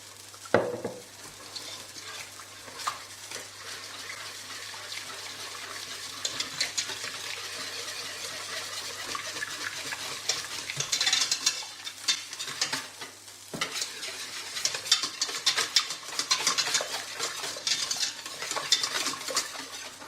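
Milk is whisked into a cheese sauce for spicy sriracha mac and cheese, a steady scraping swish of a whisk against a pan with faint bubbling and occasional metallic taps, close and continuous, no voices.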